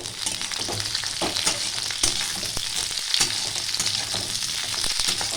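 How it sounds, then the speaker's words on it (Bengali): Jujubes cook in a pan on low-medium flame for a pickle while being stirred, a constant sizzle broken by scraping and clattering strokes of the spoon, close and continuous. "কুলগুলো ভালো করে নাড়িয়ে টাড়িয়ে নেব এটা পাঁচ মিনিট নাড়াচাড়া করবো"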